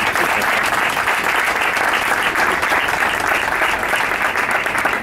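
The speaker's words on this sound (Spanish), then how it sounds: "al cual ruego ya un fuerte aplauso" Steady, loud, dense applause from an audience greeting the mayor of Chipiona at an event in Seville, continuous clapping without pause throughout.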